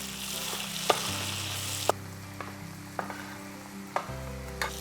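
Five chopped tomatoes fry in a pan for Kerala-style anchovy thoran, a bright close sizzle with a spoon scraping and knocking the pan every second or so, with a low hum underneath and no talk.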